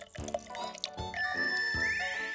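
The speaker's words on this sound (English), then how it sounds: "So we'll pour the juice in the glass." Juice pours into a glass at close range, a gurgling trickle with a few drips, and the pitch rises steadily as the glass fills.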